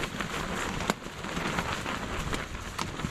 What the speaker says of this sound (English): As you all can hear, the winds are picking up